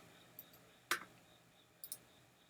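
Computer mouse clicks sound close by in a quiet room, one sharp click followed by a quick pair a moment later, plus a faint tick at the start, with no talking.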